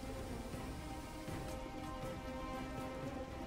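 Steady rain falls on marble in the God of War 3 video game, a continuous, even hiss of drops with no breaks, heard alone at moderate level.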